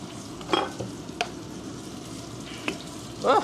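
Soy sauce, mirin and sake heat on a burner with a low, steady sizzle, while a few light clinks and scrapes of stirring utensils pop up faintly over the simmer.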